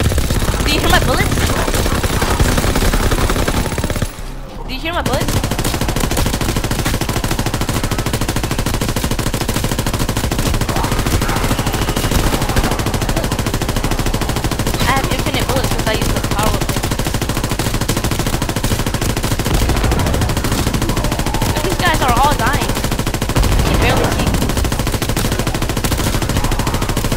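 Continuous automatic gunfire from a player's weapon in a WW2 shooter game, a dense sustained rattle that briefly cuts out once before resuming.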